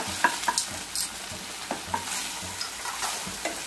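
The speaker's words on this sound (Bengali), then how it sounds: "একসাথে না, আমি নাড়ছি, তুই দিতে থাক। আমরা দুজনে মিলে রান্না করছি।" Pasta stirred and fried with Schezwan sauce in a pan: a spoon scrapes and clinks in quick irregular strokes over a steady close sizzle, with no talking.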